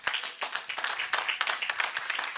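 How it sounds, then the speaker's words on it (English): Audience applause at a National Archives Week event, a short burst of scattered hand clapping with uneven, overlapping claps at moderate volume, with faint voices mixed in. "Can we give them another round of applause?"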